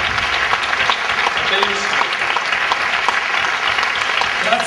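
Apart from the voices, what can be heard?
audience applause at a cabaret award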